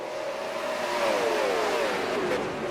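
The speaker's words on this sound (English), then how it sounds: "And there we get a little motor rumbling." A super late model race car in the iRacing sim rumbles steadily and loud, its engine pitch sliding down and then rising again, with no talking over it.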